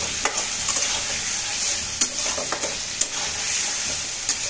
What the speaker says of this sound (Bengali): রান্না করার সময় বারবার এরকম নেড়ে এভাবে সুন্দর করে কষাতে থাকবেন